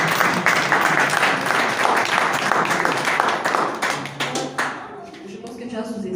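A studio audience at a talk show in Marrakech applauding loudly and steadily, the dense clapping thinning out near the end as a voice comes in.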